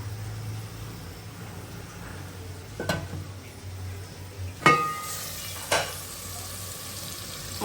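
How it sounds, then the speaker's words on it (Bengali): Eggplant frying in a pan gives a low, steady sizzle with a few sharp clinks and scraping stirs of utensils against the cookware, all fairly quiet and without any voices. "আর এখানে আমি বেগুনটা ভাজি করে নিচ্ছি"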